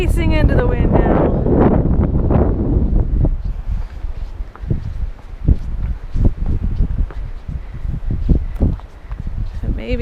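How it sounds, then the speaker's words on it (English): Strong wind blowing across a mountain saddle above Lake Tahoe, a steady loud rush buffeting the microphone throughout, with a person talking over it at the start. "So you're facing into the wind now."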